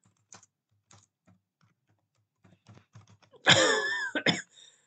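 Code is typed on a computer keyboard in sparse, irregular clusters of nearby keystrokes, followed by a brief vocal sound near the end.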